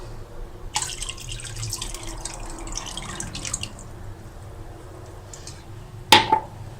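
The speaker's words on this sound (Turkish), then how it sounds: "Sirkemizi ilave edelim" Vinegar poured into a pickle brine of lemon salt and salt makes a liquid splashing and trickling sound, starting abruptly and running a few seconds, followed by a sharp clink of a utensil or container.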